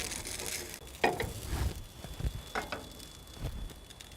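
Hash browns frying on a single-burner biogas stove fitted with a protective pipe, giving a soft, steady sizzle with a few louder scrapes and clatters near the start, no voices.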